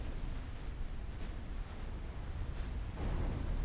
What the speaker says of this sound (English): We've scored 13 torpedo hits.